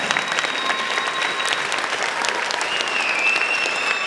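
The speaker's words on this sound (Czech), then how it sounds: "Ještě jednou zatleskejte Filipkovi." Audience at a summer musical school event applauds in a steady, dense wash of clapping that holds level throughout, with faint voices mixed in.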